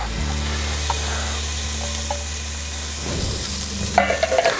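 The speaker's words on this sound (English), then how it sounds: "we're going to fry that up until the onions become translucent and the peppers quite soft" Diced orange peppers and onions fry in a pan for sloppy joes, a steady broadband sizzle running throughout with a few soft stirring scrapes and utensil clinks near the end.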